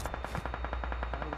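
Rapid automatic gunfire from a DBS shotgun in the mobile game PUBG Mobile, a dense, loud burst of evenly spaced shots rattling continuously without pause.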